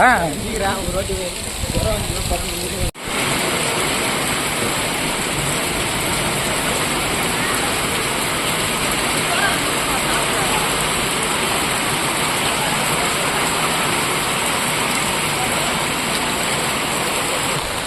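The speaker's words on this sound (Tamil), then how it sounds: "இந்த மழையில் போன நினைச்சாலே இங்கேருந்து போகிறதுக்குள்ளே நினைஞ்சிரும் உங்களுக்கு." Heavy rain pours at a temple in Swamimalai, a dense, continuous roar of falling water that stays loud and even throughout, with a brief burst of other noise at the very start before the downpour takes over.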